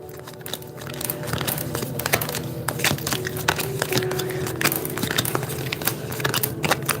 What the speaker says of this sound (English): Okay, I can shuffle these.